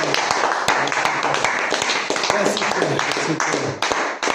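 Church congregation clapping in acclamation during a French-language worship service, dense rhythmic claps loud and close, mixed with voices and crowd noise throughout.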